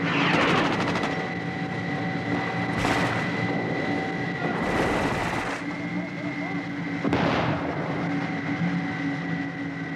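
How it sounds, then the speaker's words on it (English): Rockets explode near a tank during the Soviet war in Afghanistan, three heavy booming blasts over a steady mechanical rumble, with voices mixed in. "a rocket landed right in front of our tank"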